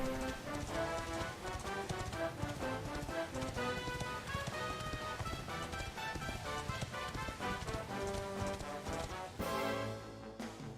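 Horse galloping in the video game Dragon Quest XI, a steady clip-clop running under continuous game music for about eleven seconds, with a brief shift in the music near the end.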